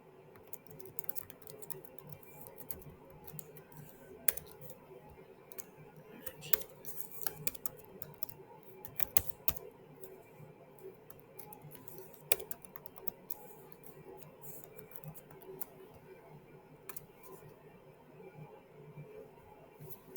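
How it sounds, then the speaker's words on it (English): A password is typed on a computer keyboard in quiet, soft clicking keystrokes spread irregularly over a long span, with occasional sharper taps and faint background hum. "We're going to type in that password again."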